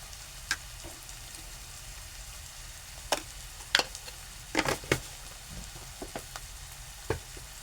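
Stuffed ridge gourd (shirali) with a pea-based masala sautéing in a pan, a faint low sizzle broken by a handful of sharp spatula scrapes and taps against the pan, close and without speech.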